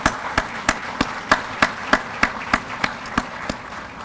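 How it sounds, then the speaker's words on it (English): Evenly spaced, crisp hand claps ring out about three times per second in a steady rhythm as a State of the City gathering applauds its chamber board members and ambassadors, close and distinct over a quiet room. "so please give them a round of applause."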